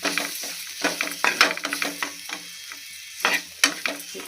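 Chilli powder and turmeric sautéing in a pan for a cluster bean masala curry, with close, intermittent sizzling and bursts of stirring scrapes in uneven clusters.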